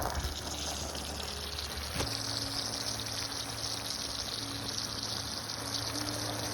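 Water gushing from a garden water pump, a steady close rushing pour with a low motor hum underneath and a brief knock near the start, no talking.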